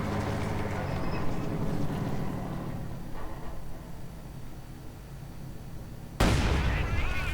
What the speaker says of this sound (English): And mine goes off there